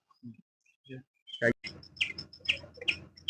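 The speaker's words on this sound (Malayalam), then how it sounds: "അതിമനോഹരമായി തത്തകളും മറ്റു കിളികളും" Parrots and other birds chirp and chatter close by in a forest, a few scattered calls then a quick run of repeated high squawks.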